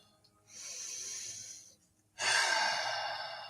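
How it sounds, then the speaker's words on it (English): Two slow, deep breaths taken up close, a long airy inhale followed by an even fuller exhale, with a short pause between them. "deep breaths."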